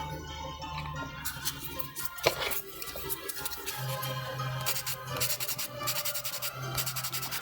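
Plastic model kit seamlines on a Macross Queadluun Rau being sanded with sandpaper, a close, steady scratchy rubbing that repeats in short strokes, with a low hum underneath.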